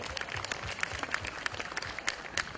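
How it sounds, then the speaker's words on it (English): Scattered audience applause, faint and somewhat distant, with individual claps picked out in an irregular patter over a couple of seconds. "Let's all give her a big round of applause to thank her for today."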